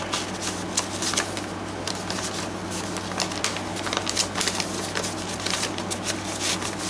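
Journaling cards slide into a paper envelope with continuous close, soft papery rustling and shuffling throughout.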